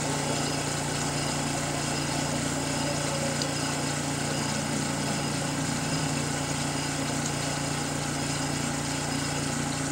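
CEE Brewer Science 100 spin coater winding down toward a stop, a steady whirring motor hum with a constant tonal drone, close and even throughout with no voices.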